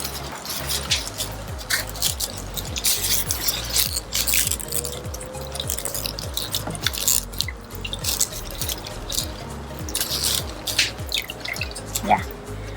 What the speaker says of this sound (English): We'll wash the radish now.